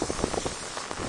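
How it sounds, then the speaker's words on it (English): Heavy rain pouring down on an outdoor trout fishing spot, a dense, constant hiss with scattered drops pattering nearby, brief and without talk. "It is pouring."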